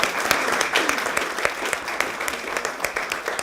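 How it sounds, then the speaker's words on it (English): Steady applause from a room of people at a Tampa city council meeting honoring an award recipient, a dense run of claps filling the whole stretch at moderate loudness with a faint murmur underneath. "One more round of applause."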